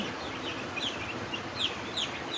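Broiler chicks in a poultry shed giving short high chirps, scattered peeps repeating over a steady, moderately loud background hum.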